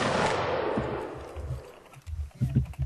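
Pistol shots ring out at a public event, a loud burst decaying at the start followed by several sharp, fairly close reports later on, with low rumbling background noise between them.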